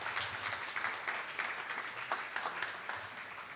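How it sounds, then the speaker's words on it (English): A crowd at a tech meetup claps in a steady round of applause, many hands together, moderately distant and even, with no voices over it. "So let's give those guys a big round of applause."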